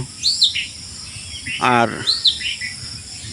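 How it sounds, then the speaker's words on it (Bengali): A common tailorbird chirps in a village in the early morning under a cloudy sky, with bright, high, repeated chirps in short bursts, while a person briefly speaks once in the middle. "টুনটুনি পাখির কিচিরমিচির ডাক আপনারা শুনতে পাচ্ছেন"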